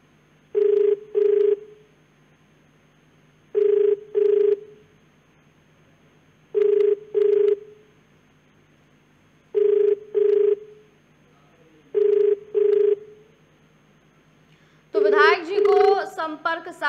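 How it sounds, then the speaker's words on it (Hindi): A phone call placed during a live news broadcast rings unanswered, with five evenly spaced double-burst ringback tones over a faint steady hum, and a voice begins speaking just as the last ring sounds. "जो फोन की घंटी है वो आपने सुनी है"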